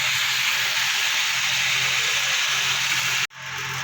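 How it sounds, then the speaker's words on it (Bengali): Chicken seasoned with salt and a little turmeric fries in a pan for a curry, making a steady, loud, close sizzle and hiss that cuts off abruptly near the end, then resumes more quietly. "এবার কিছুক্ষণ ভাজা করে নেবো তাকে।"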